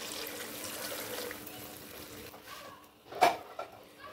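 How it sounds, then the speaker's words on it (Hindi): Water poured from a tap into a pot of rice for a green chickpea pulao in a home kitchen, a steady faint running splash that swells briefly near the end. "जितने हमने मेजरमेंट में चावल लिए हैं उससे डबल पानी डाल देंगे।"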